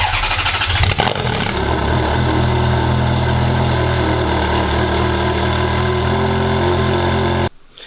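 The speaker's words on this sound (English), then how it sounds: "let's do a cold start on the Ferrari" A Ferrari engine cold-starts with a quick crank and catch, then settles into a loud, steady, rumbling idle held close up for several seconds before cutting off abruptly.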